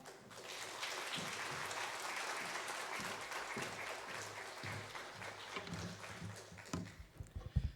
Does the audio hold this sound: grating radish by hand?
no